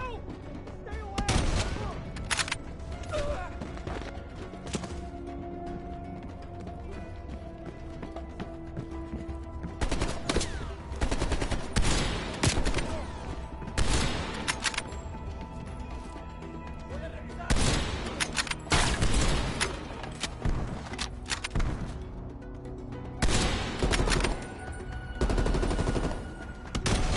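Bursts of gunfire and heavy fusillades from a Cold War-era video game campaign battle, loud and repeated in clusters of rapid shots with booms, with shouting voices mixed in throughout.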